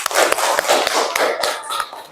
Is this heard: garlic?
no